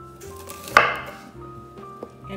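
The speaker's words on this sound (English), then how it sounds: "all we want to do with those is just cut them in half." A knife slices through cauliflower florets on a cutting board in a kitchen, one sharp chop landing clearly, then a softer tap a little later, with quiet kitchen background between.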